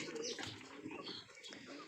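Racing pigeons cooing softly close by, with faint rustling and wing flaps mixed in, quiet throughout.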